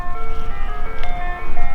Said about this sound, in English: it looks like the little ice cream truck is actually, it was on this street here